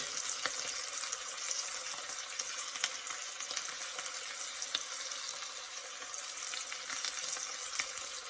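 Steak sears in a pan with garlic and spices laid on top, a constant bright hiss of sizzling fat, even and moderately quiet, with no voices.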